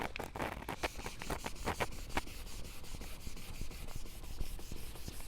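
Black sandpaper wet-sands a car headlight lens in quick back-and-forth strokes, making a close, steady, rhythmic scrubbing rasp throughout.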